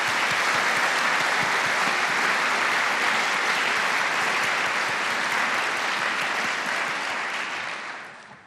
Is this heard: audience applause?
yes